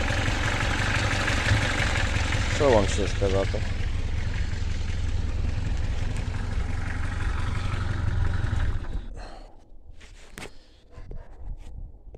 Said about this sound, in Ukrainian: Моторчик робить непогано, трошки шумлять клапанці